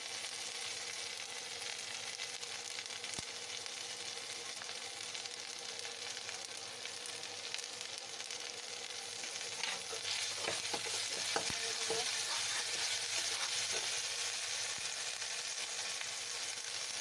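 A potato and chicken pakora mixture sizzles steadily in a pan, with a soft continuous frying hiss and a burst of scraping, clinking stirring strokes toward the end, no voices.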